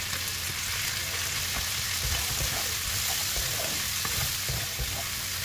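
Red leafy greens frying with shrimp in a hot pan, a steady, close sizzle with occasional stirring scrapes and no one speaking.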